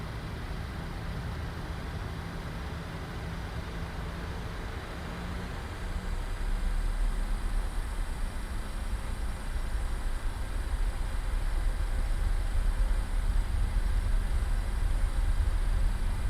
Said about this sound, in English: It's the sound of these engines